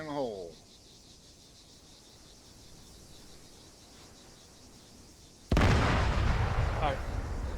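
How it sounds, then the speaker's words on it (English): A set explosive charge goes off during a training exercise. A brief voice and a quiet lull with insect chirping come first, then one sudden loud blast sets off a long, sustained roar. "set the trigger. And sled. Fire in the hole, fire in the hole, fire in the hole."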